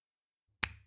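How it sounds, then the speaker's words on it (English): One quiet hand clap, sharp and close, rings out alone after a moment of silence, then a brief low thump follows. "It's the weakest clap ever"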